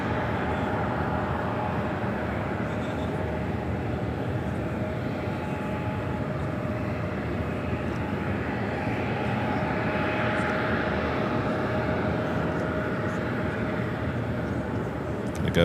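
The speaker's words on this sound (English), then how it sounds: "Next arrival is Southwest Flight 2255 coming up from Tampa, Florida. It's a 737 at MAX 8." A Southwest Boeing 737 MAX 8 arriving at LAX from Tampa produces a continuous, even jet engine roar throughout, fairly loud and steady with no break.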